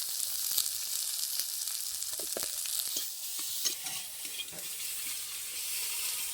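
Chopped tomatoes, salt, turmeric and chili powder hitting hot oil in a pan, a continuous bright sizzle with scattered stirring scrapes and clinks, close and steady, no voices.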